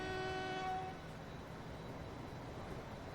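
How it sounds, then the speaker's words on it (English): Freight train pulling out of a station in the Transport Fever video game, with a brief horn blast at the start, then a steady low rumble of rolling wagons. "I do love to see the trains pulling in and loading up and pulling out."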